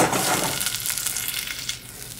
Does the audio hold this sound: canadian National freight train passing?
no